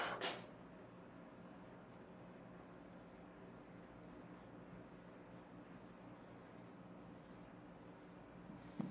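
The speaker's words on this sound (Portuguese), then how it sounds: "Eu vou anotar até de azul." A pen writing in blue ink, a faint, continuous scratching that stays steady and low behind a quiet room hiss, with a brief louder scrape at the start.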